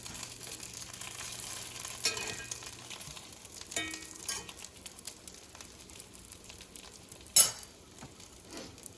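Croque monsieur bread fries in butter in a pan with a soft, steady sizzle, broken by a few clinks and scrapes of a utensil against the pan.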